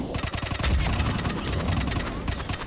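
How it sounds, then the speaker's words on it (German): Heavy gunfire rattles in a Mass Effect 3 battle, rapid bursts of automatic shots stacked in dense, fast rhythm with booming low impacts underneath, loud and continuous across the whole stretch. "Das hört sich wirklich sehr nach schweren Geschützern."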